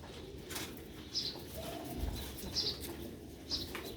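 Sialkoti green-bead pigeons coo in low repeated phrases, joined by a few brief bursts of wing flapping, fairly close over steady background noise with no talk.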